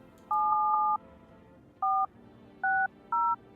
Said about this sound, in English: We're just making all the phone calls today.